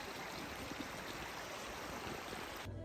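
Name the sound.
water filter filling a water bottle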